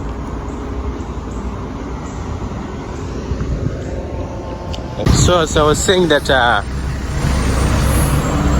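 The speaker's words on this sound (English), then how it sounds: "There's a truck coming." A truck approaches and rumbles past on a road near someone crossing on foot, a broad swelling roar of traffic noise that stays loud to the end, with a person talking over it partway through.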